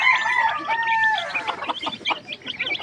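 Silkie bantam chickens clucking nearby, a crow-like drawn-out call at first followed by a busy series of short clucks and chatter.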